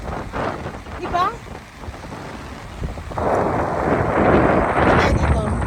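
Strong wind roars across a shore with rough waves, a loud broadband rush that swells and thickens about halfway through, with a brief faint voice early on.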